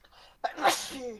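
A single sharp human sneeze bursts out close to the microphone, a brief intake followed by an explosive noisy release that trails off over about a second.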